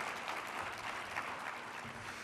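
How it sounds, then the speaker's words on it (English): An audience at an association presentation applauds, a steady dense wash of clapping that holds at even loudness throughout. "Go ahead and give yourselves a round of applause."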